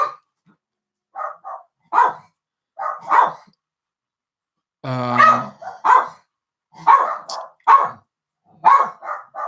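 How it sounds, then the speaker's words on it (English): A dog barks indoors in short, loud, close bursts, about a dozen sharp barks with gaps between and one longer rough growling bark in the middle. "Apologies for the dog."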